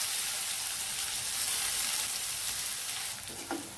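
Chopped onion with asafoetida sizzles and fries in hot oil in a pan, a continuous crackling hiss with light stirring, easing slightly near the end.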